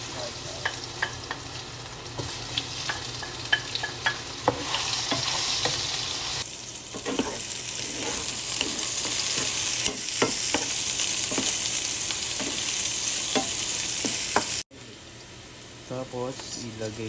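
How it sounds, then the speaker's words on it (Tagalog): Garlic and onion sautéing in a pan to start a ginataang isda fish dish: a close, crackling sizzle that swells louder partway through, with scattered utensil clinks and stirring scrapes before an abrupt drop. "Okay, lagyan na natin itong bawang at sibuyas."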